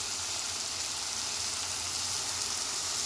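Tomatoes for a bitter gourd curry cook in a pan on the stove, giving a steady, close hiss of sizzling oil that stays even and continuous throughout, with no talking.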